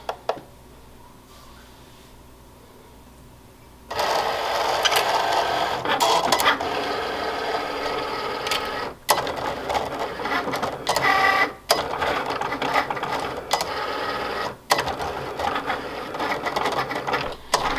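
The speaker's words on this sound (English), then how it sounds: "now you're gonna press the circle Cricut button, the flashing button, and it's gonna start cutting your mat for you" A Cricut cutting machine cuts heat transfer vinyl on a mat, starting after a quiet stretch with a close, steady mechanical whir and buzzing carriage motor, broken by several brief pauses as the blade head shifts.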